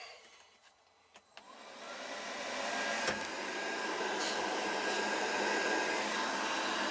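An Ice Crusher cab heater in a Polaris Ranger XP1000 blows air through newly installed defrost vents, starting with a few clicks before the fan ramps up into a steady, close whooshing rush.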